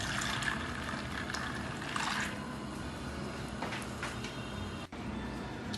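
Water poured from a cup over dried Egyptian fava beans set to soak, a steady close pouring and splashing wash that runs almost without pause before a brief cut near the end.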